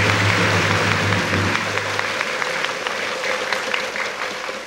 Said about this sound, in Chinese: 我们是不是应该给她一个掌声啊？